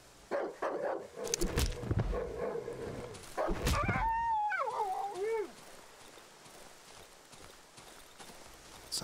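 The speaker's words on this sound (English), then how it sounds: "Take on this dog." A hostile dog in the horror video game Darkwood barks in a few sharp bursts, then lets out a wavering, drawn-out howl that fades, followed by quiet ambience.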